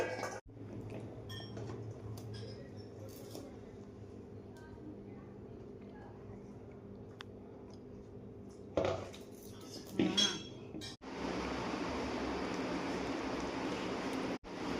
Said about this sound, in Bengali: তালের পোড়া পিঠে হবে বলে মা এখন সব কিছু মাখাচ্ছে